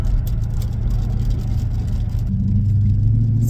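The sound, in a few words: Mercedes CLK 500 accelerating after stepping on the gas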